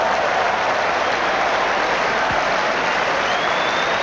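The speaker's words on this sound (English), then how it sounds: "And this is the applause that rings around the Waterloo for a veteran" Steady, dense applause from a crowd at the 1995 Waterloo crown green bowls final day, a continuous wash of clapping that fills the whole stretch without a break.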